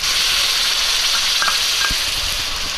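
A tomato and cashew paste, ground on a stone slab, sizzles loudly in a hot pan with a steady frying hiss, broken by a few scraping stirs.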